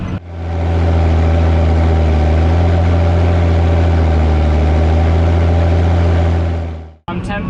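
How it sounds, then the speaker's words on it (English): A Fendt 936 tractor engine runs loud and steady with a deep, rich exhaust note, holding a constant rumble for about seven seconds before cutting off abruptly. "a separate video purely for exhaust sound on this tractor, because it does sound pretty impressive at full bark"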